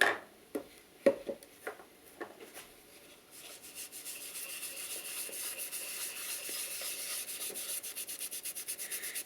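A hand rubs a finish coat into the end grain of a pine candle box, starting with a few light knocks, then a steady run of close, quiet rubbing strokes with a dry, even rhythm.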